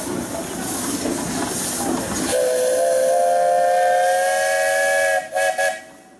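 A steam engine's whistle at the Rushville Pioneer Engineers parade in Indiana lets out one long, loud, steady blast over a background rumble, then breaks into a couple of brief stuttering toots before falling away.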